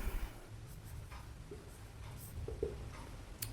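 A pen writing on paper during a Class 8 math lesson on rational numbers, quiet scratchy strokes with a few faint taps, close and soft against low room noise.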